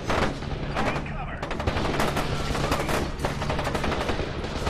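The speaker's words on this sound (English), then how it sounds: "shotgun." Repeated shotgun blasts and gunfire from the video game F.E.A.R. 2 fill a dense, loud stretch of combat noise, with rapid overlapping bursts and low rumble throughout.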